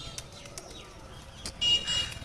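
A female Madras pigeon coos in soft, low, irregular murmurs, with a few faint chirps and a brief rustle near the end.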